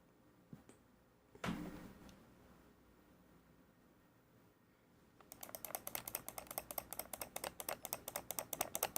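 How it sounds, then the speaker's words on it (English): A computer mouse is clicked rapidly and repeatedly, very close. The sharp, even clicks come in a fast run after a quieter stretch that holds a single dull thud. "Can you hear me clicking?"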